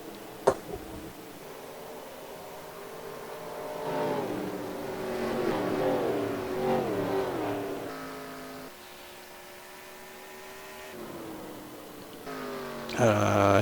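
Race car engines roar on the Indianapolis track during an FSB Racing Pro Cup event, rising and falling as cars accelerate and pass, with a sharp bang early and a louder surge near the end.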